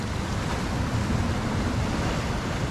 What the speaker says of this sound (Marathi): आणि समुद्राची लाटाचा आवाज